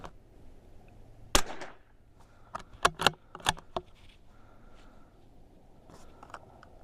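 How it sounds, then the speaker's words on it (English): Several sharp rifle shots from a CZ 457 at an outdoor shooting range, spaced irregularly over a few seconds with faint handling sounds between. "shoot another 5 shots here at the SK rifle"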